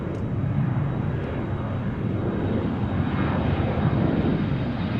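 A jet airliner taking off from runway 34 right at Seattle, its engines a steady, broad roar at moderate distance that holds even throughout.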